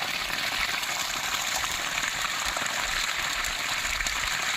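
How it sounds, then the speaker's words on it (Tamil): Water gushes hard and steady under pressure from a motor pump's 2-inch pipe, a loud, continuous broadband rush that fills the whole clip with no pauses or talk. "நல்லா 2 இன்ச் தண்ணி நல்லாவே ப்ரெஷராகவே அடிக்குது"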